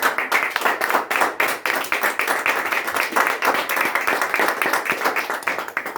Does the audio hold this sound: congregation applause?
yes